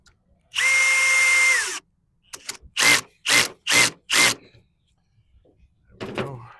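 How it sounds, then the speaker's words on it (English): A cordless power drill bores a hole into very soft wood for a bee hive: one long whirring run, then four short trigger bursts and a final brief burst, close and loud. "And I drill the hole, otherwise this thing will crack."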